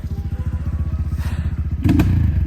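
A motorcycle labors along a difficult, muddy swamp trail, its engine thumping in a steady pulsing rhythm close by, then surging louder with clattering and scraping near the end.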